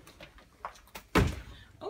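A hotel room door thuds shut with one solid, fairly close impact, preceded by faint shuffling and rustling.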